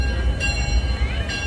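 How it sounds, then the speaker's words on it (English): A sustained amusement park train whistle sounds over the rumble of a moving ride train at Six Flags Over Texas, loud and close, with no talking. "We're waiting for that whistle."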